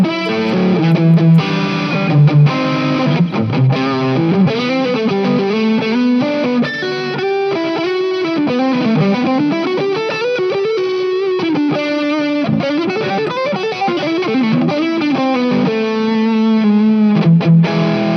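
An electric guitar runs through a high-gain, Marshall-style distortion pedal, playing a dense, saturated riff with sustained chords and moving bends, loud and continuous throughout with no talking.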